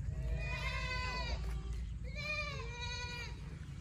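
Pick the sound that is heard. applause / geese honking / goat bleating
goat bleating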